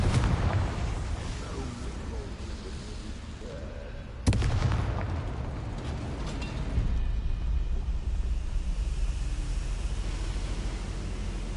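A Confringo spell explosion in the Hogwarts Legacy video game bursts sharply midway through a dense, rumbling wash of game noise, with no voices over it.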